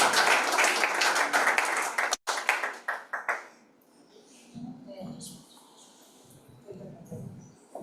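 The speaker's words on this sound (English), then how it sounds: "Let's clap for him." Applause from an audience at a national pitch competition in Burundi: dense, loud clapping that breaks off sharply, fades out in a few scattered claps, and is followed by quieter voices.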